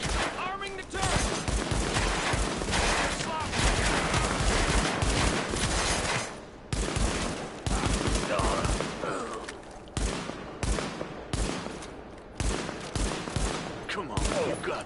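Rapid bursts of turret gunfire in the shooter game The Division, close and loud, firing in dense volleys with brief pauses across the whole stretch, mixed with game sounds and occasional voices.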